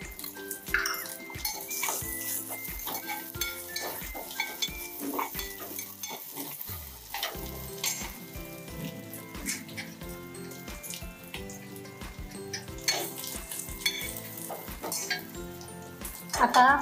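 Asafoetida and turmeric fry in hot oil in a pan while a spoon stirs, giving a steady close sizzle with repeated scraping knocks and clinks against the metal throughout.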